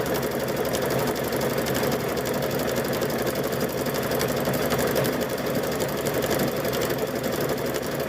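A sewing machine runs steadily and loudly, stitching a fabric-wrapped rope into a bowl with a wider stitch, its rapid mechanical chatter continuous and close with no voices.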